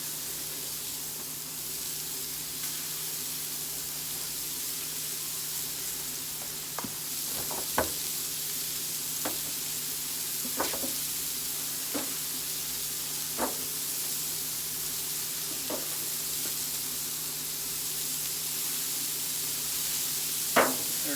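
Teriyaki bacon smash burgers sizzle on a Blackstone griddle over medium heat, a steady loud hiss of frying fat with a few sharp pops and ticks scattered throughout, no talking.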